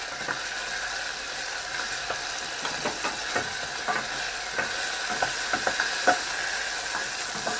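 Tomato puree gets stirred into a vegetable croquette mixture in a pan, with soft repeated scraping and clicking strokes over a continuous gentle sizzle, moderately close and with no talking.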